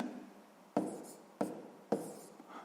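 A pen or chalk marks out a math equation in three quick scratchy strokes, evenly spaced, close and soft against a quiet background.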